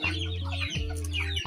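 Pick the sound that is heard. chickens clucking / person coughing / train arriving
chickens clucking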